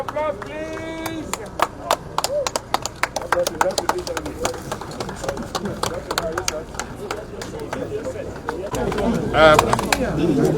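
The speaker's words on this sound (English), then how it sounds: "Round of applause, please." Sparse, scattered hand claps from an audience at a National Sports Festival balloon release ceremony, irregular and moderately close, with a voice speaking briefly at the start and voices returning near the end.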